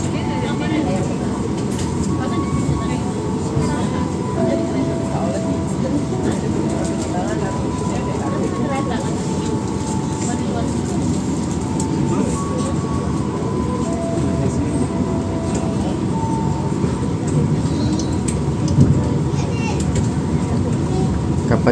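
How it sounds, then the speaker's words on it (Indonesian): A Jayabaya Utara passenger train pulls out of the station bound for Pasar Senen, making a loud, continuous rolling rumble and rail noise with scattered squeals and clanks, while voices sound faintly in the background. "Saatnya kereta api Jayabaya Utara ini diberangkatkan menuju stasiun tujuan akhir,"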